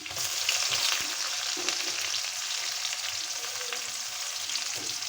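Garlic and chopped onion fry in hot oil in a pan for a Bengali taro-leaf stir-fry, giving a steady, close, bright sizzle with faint stirring, and no voices.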